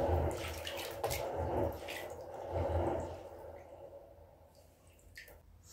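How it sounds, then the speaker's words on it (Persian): Unripe sour grapes washed in water for homemade verjuice: splashing and sloshing with trickling, dripping water, rising and falling in a few surges before easing off. "قوره ها رو میشورم تا گرد و غبارش بره."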